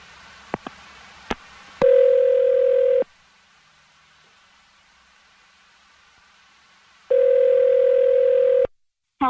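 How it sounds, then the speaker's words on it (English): A telephone line gives a few sharp clicks, then a steady dial tone sounds for about a second, cuts to near silence, and returns for another stretch before abruptly stopping. It is clear and close, with no talking. "I'm going to dial her phone number right now."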